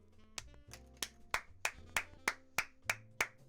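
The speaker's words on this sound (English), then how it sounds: "I'm applauding my own idea." One person claps their hands in a quiet shed, about a dozen sharp, distinct claps in a steady rhythm that quickens slightly, close and alone with no talking.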